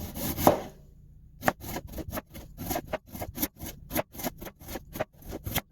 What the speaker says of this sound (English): I'm just going to use a knife to cut these thinly